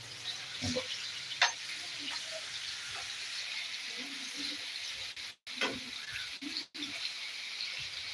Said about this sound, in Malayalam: ചിക്കൻ ഫ്രൈ ഇതായിട്ടുണ്ട് ഇപ്പം ഇളക്കി കൊടുക്കാം